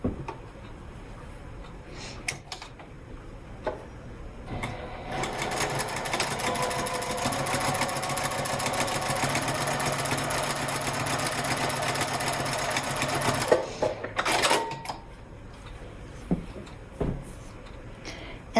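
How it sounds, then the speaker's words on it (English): A sewing machine runs in one long, steady burst, stitching wallet panels seam to seam at the base, with handling clicks and rustles before and after. "stitch seam to seam at the base there"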